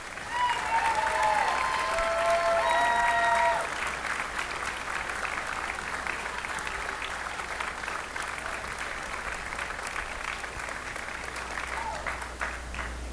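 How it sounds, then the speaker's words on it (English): Sustained, loud audience applause rises for the graduating seniors at the Neshaminy High School spring orchestra concert, a dense steady clapping that fills the hall, slightly fuller at first and then easing to an even level, with no voices on top. "All seniors, rise for one more round of applause for all the hard work and dedication you had to the program"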